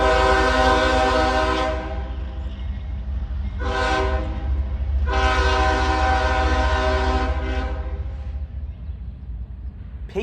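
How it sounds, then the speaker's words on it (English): A CSX freight locomotive, uncoupled from its train, rumbles along the track near an industry in Folkston, Georgia, loud and close, with long blasts of its horn sounding over the steady engine drone. "Meet CSX train L796. It's currently uncoupled from the rest of its train and is making its way inbound towards Universal Forest Products"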